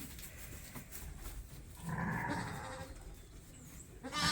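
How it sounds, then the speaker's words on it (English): Suffolk sheep and lambs on a farm bleat at close range, a wavering cry rising in the middle, with more calls and background bleats near the end. "That Suffolk mom is so upset by lambs crying."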